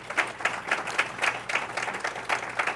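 A small audience at a Black History Month event claps in a fairly regular rhythm, moderately loud, with each clap standing out distinctly.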